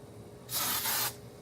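A single short burst of canola oil cooking spray hisses close by into a pan for about half a second, then cuts off.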